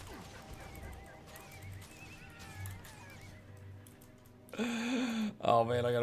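A horse in the online game Guild Wars 2 gives a long, high whinny, fairly loud near the end and trailing off, with softer game sounds and faint background noise before it.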